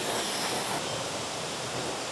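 A large manmade waterfall at Ashton Gardens in Utah produces a continuous, broad rushing roar of falling water, steady and fairly loud with no voices.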